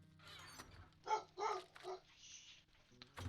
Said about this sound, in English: Why is my dog barking all of a sudden?